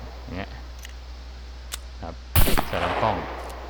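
Gunfire from a gun in the video game SCUM, a loud crackling burst with a short trailing rattle, set among quieter clicks and a voice talking.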